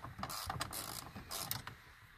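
A hand ratchet with a 7/32 socket clicks in short bursts while backing two screws out of a 2007 Ford F-150 steering-column panel during a multifunction switch replacement, close and fairly quiet, with no talking.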